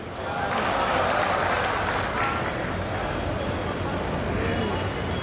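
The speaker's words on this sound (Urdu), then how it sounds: "اتنی کمزور تالیوں سے تو کام نہیں چلے گا۔" An audience at a religious gathering gives thin, scattered applause that rises briefly near the start and then settles into a softer patter of clapping, mixed with crowd murmur.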